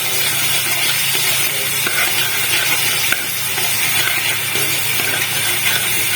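Spice paste of chilli powder loosened with a little water frying in a pan, a loud, dense, continuous hiss and sizzle with faint stirring scrapes underneath, heard close with no talking.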